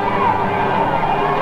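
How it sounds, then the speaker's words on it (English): A crowd in Algiers cheers and greets the army, a dense, loud roar of many voices with shouting, steady and close for a brief moment. "The crowd greeted the army as saviors."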